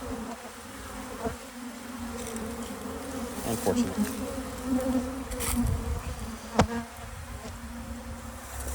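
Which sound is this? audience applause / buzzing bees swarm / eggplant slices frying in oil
buzzing bees swarm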